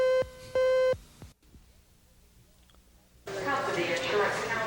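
A repeated electronic beep, two sustained tones in quick succession, followed by a quiet pause and then a burst of background noise.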